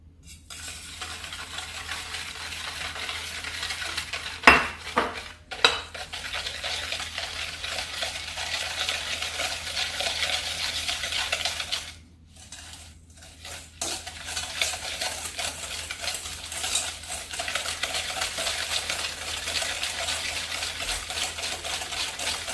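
Egg yolks and sugar being whisked by hand for pastry cream, a steady, fast scraping rhythm of wire against bowl that runs almost throughout, with a couple of sharper knocks near the start and a brief pause partway.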